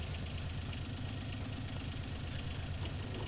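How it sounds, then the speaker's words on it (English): A Gator utility vehicle's engine idles in Farming Simulator, a steady low rumble with a rhythmic mid-range pulse, continuous and fairly close with no talk. "jump in the gator, turn the lights on, turn the engine on"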